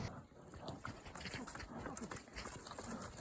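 A young colt in training steps hesitantly into brush, its hooves making faint, irregular thuds and crunching rustles of twigs and leaves against a quiet outdoor background.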